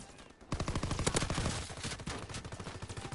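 Rapid PPSh submachine gun bursts in Call of Duty WW2 multiplayer on the Shipment map, starting abruptly after a brief lull and rattling steadily in a fast, continuous rhythm, loud and close.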